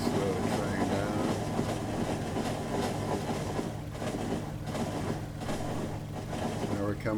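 Train running on rails in the Factorio video game, a steady rumbling rail and engine noise that holds throughout at moderate level, with a voice talking over it.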